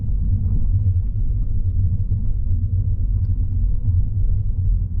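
Car accelerating through city streets, its low engine rumble and road noise steady and close from inside the cabin, with no talking.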